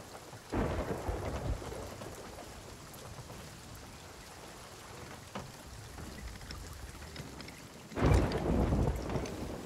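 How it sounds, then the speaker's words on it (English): A thunderstorm at sea in Sea of Thieves: steady rain hisses throughout while two deep rumbles of thunder roll in, one near the start and a louder one toward the end, with no talk. "A storm. Let's do it."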